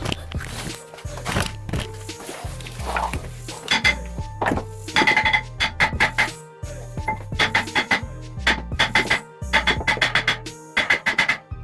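A stuck brake rotor on a 2015+ Subaru WRX is forced off with repeated heavy metallic clanks and bangs. The strikes come in uneven bursts, loud and close, with ringing metal between the hits.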